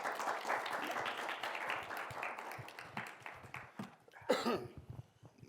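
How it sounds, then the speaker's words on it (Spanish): An audience at a campus creative talk applauds an interviewee, a moderately faint patter of many hands that thins out and trails off near the end. "Así que un aplauso para el entrevistado."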